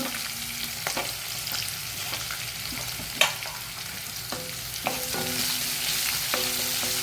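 Onion, ginger and green chilli fry in a pan with cashews for uppittu, a steady close sizzle running throughout with occasional sharp clinks of stirring.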